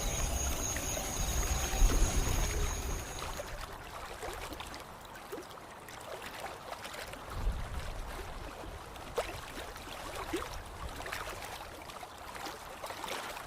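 A boat glides along a river at night in a cartoon, with a steady wash of flowing, trickling water close by and soft splashes that come and go throughout, and no voices.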